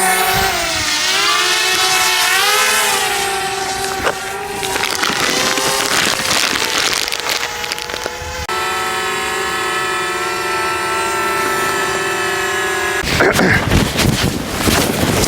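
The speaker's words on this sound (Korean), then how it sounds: "자 드론을 날리고 있습니다" A drone flies outdoors on a breezy mountain during a backpacking trip, its steady high-pitched buzzing rotor whine rising and falling in pitch, loud and close, with wind rumbling against the microphone throughout.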